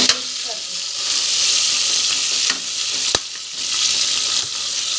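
Tomatoes sizzle loudly in hot oil in a pan while biryani is being cooked, a steady close frying hiss broken by a few clinks and stirs.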